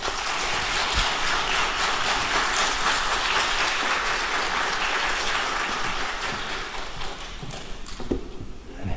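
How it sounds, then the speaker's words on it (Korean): A large church audience gives loud, dense applause to welcome the pastor to the pulpit, a sustained roar of clapping that carries steadily before thinning slightly near the end, with little talk. "오늘도 나오실 때 큰 박수로 맞이하겠습니다."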